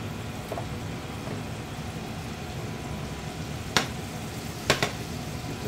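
Butter melting and sizzling in a hot frying pan for French toast, a steady soft crackle with a couple of sharp clinks partway through, no voices.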